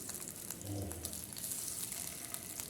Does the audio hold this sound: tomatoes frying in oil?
yes